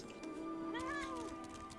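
A cat in the Final Fantasy XIV video game gives one drawn-out, wavering meow in the middle of the moment, set against soft game background sound.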